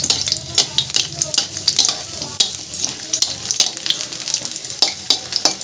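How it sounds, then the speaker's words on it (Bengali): Four or five garlic cloves fry in hot oil over a lowered gas flame for a traditional Bengali dal pora, giving a steady crackling sizzle broken by sharp bursts of stirring, with no voices. "রসুনটাও ভাজা ভাজা হয়ে গেছে"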